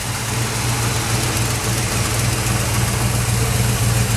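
A 1969 Ford Torino Cobra Q-code with a 428 Cobra Jet V8 idles steadily up close, a loud low rumble that holds constant with no revving and no voices.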